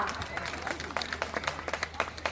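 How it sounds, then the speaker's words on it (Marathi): Audience at a Marathi tamasha folk theatre show claps in a burst of scattered applause, irregular sharp claps rising and falling, with voices in the crowd audible underneath. "टाळ्या तरी वाजवा आता"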